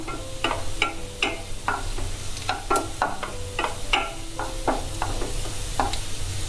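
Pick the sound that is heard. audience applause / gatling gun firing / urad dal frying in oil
urad dal frying in oil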